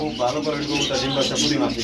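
Caged running pigeons, sold in pairs, coo close by in soft, throaty, rolling bursts that overlap, with some human voice mixed underneath.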